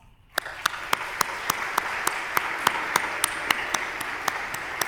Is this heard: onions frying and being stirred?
no